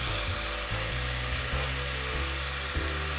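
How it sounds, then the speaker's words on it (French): A drill bit boring into wood, held to keep the bit centred while correcting a badly made hole: a steady, close, whining grind with slight pitch shifts throughout. "j'essaye de faire en sorte que ma mèche garde une position centrale là-bas, parce que là on a un perçage"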